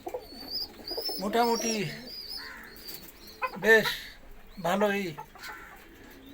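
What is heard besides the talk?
pet pigeons and pigeon chicks cooing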